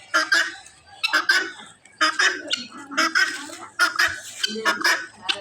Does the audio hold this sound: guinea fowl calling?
yes